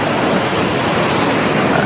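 A clear blue river at Pelupung Campsite in Kota Belud, Sabah, makes a loud, steady, close rush of flowing water with no other sounds.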